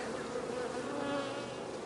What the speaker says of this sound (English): So I'm going to brush off these bees.